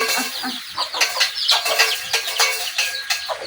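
A hen clucks with her chicks, a rhythmic run of short close clucks over several seconds, mixed with thin high peeping from the chicks.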